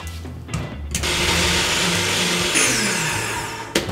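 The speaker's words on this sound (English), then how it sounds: "If you pass over our spice grinder, they're all going in there." Electric spice grinder whirring steadily as it blitzes chili, onion, garlic and ginger into a curry paste for chicken rogan josh, a loud continuous motor drone starting after a brief pause and cutting off near the end.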